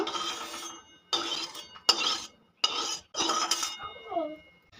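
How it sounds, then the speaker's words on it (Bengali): A metal spoon scrapes and clinks around a kadai of mustard oil in close, repeated bursts of stirring separated by short pauses, ending with a softer rubbing stroke. "তেলটা চারি সাইডে খুব ভালো করে মিশিয়ে নেব।"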